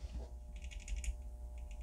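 Small button on a miniature Atari controller giving a quick run of faint, crisp clicks, close up and quiet, with no talk.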